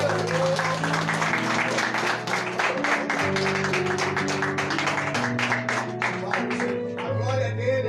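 Church congregation clapping during a Tuesday worship service, a dense broadband patter of many hands running throughout over sustained music tones with a voice singing or speaking along.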